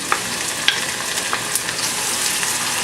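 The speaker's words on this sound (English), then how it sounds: "Just dice them nicely and then put them into the oil to saute." Diced onion sautés in warm oil with a loud, continuous close-up sizzle, dotted with small pops and ticks, and no speech over it.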